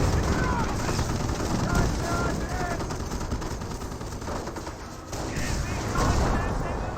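Gunfire in a Company of Heroes 1 match, Wehrmacht against British forces with a garrison and Staghound armoured cars: rapid bursts of small-arms and machine-gun fire crackle steadily in the middle distance within a dense battle din.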